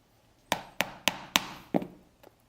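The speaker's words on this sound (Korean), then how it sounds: "이렇게 핸들 전체 이제 구멍을 다 뚫었고요." Tool is struck to punch stitching holes in a leather handle for a mini tote bag: five sharp, evenly spaced close knocks, followed by a softer faint tap at the end, with no talking.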